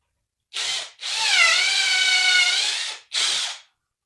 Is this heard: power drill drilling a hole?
yes